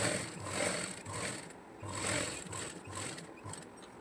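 A sewing machine stitches the side seam of a cutwork, stonework blouse sleeve, giving a steady low mechanical whir that swells and eases in a loose rhythm, close by with no talking.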